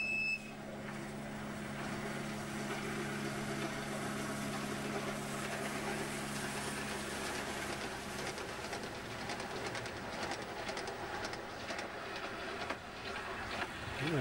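A miniature railway train in service since the 1940s runs at a steam gala. Its continuous rumble and rolling clickety-clack carry on for the whole stretch, with birds and pigeons calling faintly around it and no one talking.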